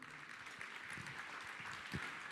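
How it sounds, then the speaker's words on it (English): Faint, steady applause from an awards ceremony audience at an ethics awards night, a soft continuous patter of clapping heard from a distance for a couple of seconds. "Give a huge round of applause for them as well."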